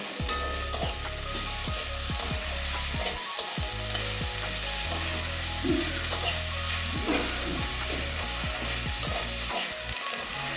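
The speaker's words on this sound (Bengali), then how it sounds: "ধনে পাতাটাও ভেজে নেবো" Coriander leaves fry in a pan with a steady close sizzle, punctuated by repeated scraping and clinking knocks of a spatula stirring them throughout, with no voices.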